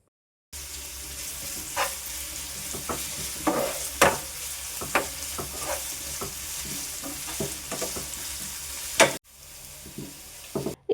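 Onion, green chili and curry leaves sauté in a hot pan, a steady close sizzle with scraping stirs and a brief pause near the end.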